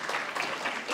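A brief burst of audience clapping at a Somali student awards and scholarship event in Columbus, Ohio, soft and scattered over about one second.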